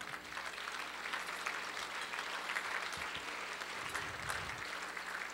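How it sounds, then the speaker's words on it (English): Dinner guests applaud steadily for several seconds, a dense wash of clapping filling the room at a moderate level without fading, a low hum running underneath. "That's worth a round of applause."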